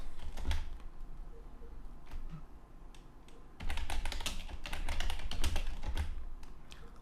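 Clattery typing on a computer keyboard while writing PHP code, a quick run of close key taps that thins out midway, then resumes in a denser, louder burst.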